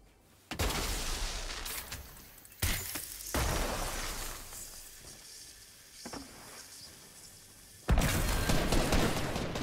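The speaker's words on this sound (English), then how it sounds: "You're shooting flare guns." Flare guns fired in the Fortnite video game: several sharp bursts, each followed by a hissing, crackling tail, loud and close, with quieter stretches between shots.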